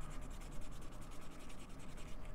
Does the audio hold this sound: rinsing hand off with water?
no